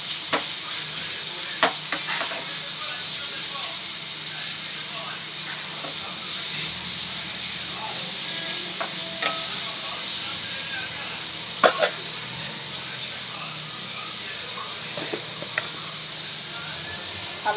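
Broccoli masala curry fries in a pan with a steady sizzling hiss, and occasional scrapes and taps of stirring come through. A voice speaks softly now and then.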